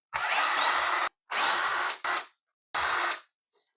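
A power drill backs out T10 security Torx screws from a Hoover All-Terrain vacuum cleaner, running in four loud whirring bursts of about a second each, separated by short pauses, with no talk.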